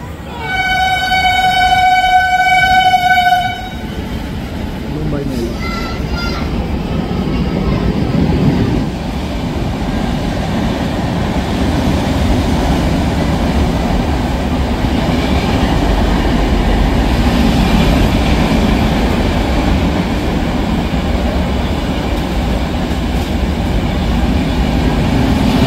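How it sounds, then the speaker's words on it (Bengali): The Howrah–Mumbai CSMT Mail via Nagpur blasts a loud horn, then rumbles past close by with a continuous heavy roar and clatter of wagons that carries on for the rest of the stretch. "প্রথম দিয়ে বেরোবে হলো মুম্বাই মেল।"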